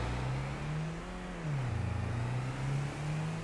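Vehicle engine driving in the Farming Simulator 25 video game, a steady close mid-pitched hum that dips and rises as the revs shift, with a slight rhythmic flutter, no talk.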